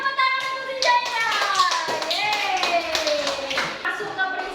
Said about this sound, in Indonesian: tepuk tangan untuk si Jaira.